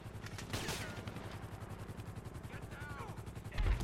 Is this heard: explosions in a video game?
yes